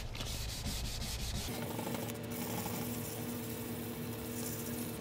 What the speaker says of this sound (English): We're gonna start sanding. You want to keep it wet all the time.